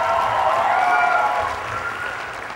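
Audience applause at a live show, a dense wash of clapping that stays strong for about a second and then gradually thins and fades.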